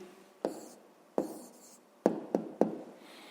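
Writing down the answer to a fifth-grade math problem, heard as a few short, crisp strokes or taps: two spaced apart, then three in quick succession, close and quiet with no talking.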